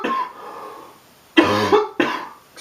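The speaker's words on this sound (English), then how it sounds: "pardon the coughs throughout the show" Three harsh coughs from a man recovering from illness, one drawn-out rasp followed by two short bursts close to the microphone, loud against a quiet room.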